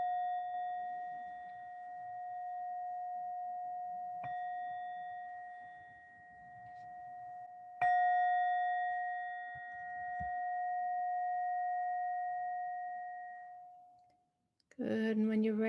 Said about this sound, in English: as we come into the conclusion of this meditation with 3 bells